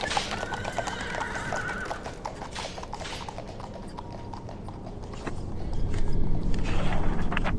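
Horses whinny and their hooves clip-clop steadily on the ground, mid-distance and moderately loud, as the animals move slowly about.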